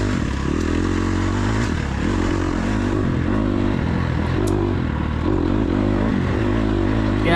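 An off-road enduro motorcycle engine runs loud and close, a continuous throbbing drone with slight surges and some clattering, steady throughout.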